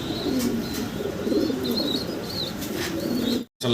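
A pair of Continental fancy pigeons and others nearby, soft repeated cooing with scattered chirps and a brief wing flutter, steady and fairly close, ending in a sudden cut.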